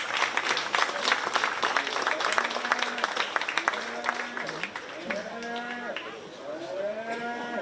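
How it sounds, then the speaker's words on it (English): Applause from the crowd at a 4H market beef show at a county fair, dense clapping in the first half that thins out while cattle moo repeatedly nearby, loud and drawn-out calls overlapping the fading applause. "Give him a round of applause again, please."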